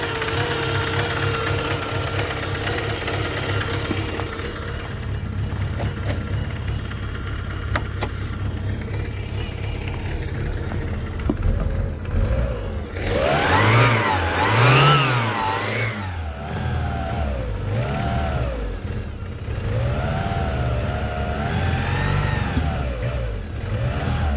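A ZAZ Tavria car engine starting after a long idle period, running roughly at idle before several rising and falling revs, close and loud with a steady mechanical rumble throughout.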